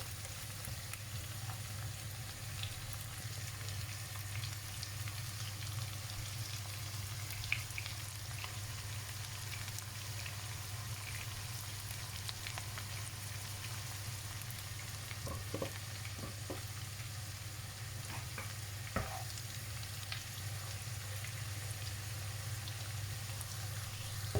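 Liver sizzles and crackles quietly as it fries in a pan, a steady low hiss with a few scattered pops and no voices.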